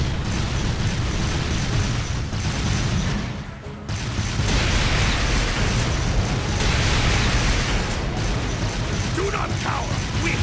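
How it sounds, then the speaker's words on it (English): Artillery barrage explosions from a war video game, a continuous dense roar of booms and bursts layered with mechanical clatter, briefly dipping before resuming at full loudness. "Fire a barrage to cover your retreat!"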